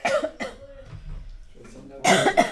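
Loud bursts of gunfire and booms in Deus Ex: Human Revolution crackle over a dense, noisy mix, with several sharp hits spread through the stretch.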